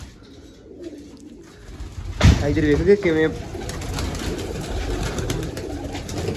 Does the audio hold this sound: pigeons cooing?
yes